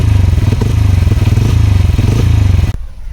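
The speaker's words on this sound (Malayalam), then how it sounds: "ഈ ബൈക്കിൻ്റെ സൗണ്ട് കേൾക്കണ്ടേ. ഇതിപ്പോൾ നിലവിൽ CNG മോഡിലാട്ടോ." A Bajaj Freedom 125 motorcycle engine runs in CNG mode, a steady low, close idle with a fast even throb that cuts off abruptly near the end.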